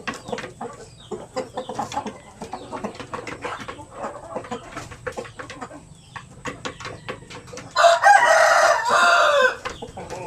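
Black Australorp chickens cluck in scattered, close calls, then a rooster lets out a loud crow near the end before the clucking resumes.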